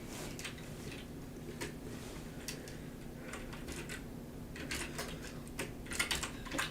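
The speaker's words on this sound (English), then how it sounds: "I don't know why I'm typing in all caps" Someone types on a computer keyboard in a quiet room, with irregular bursts of light clicking and key taps at close range over a low steady hum, and no one speaks.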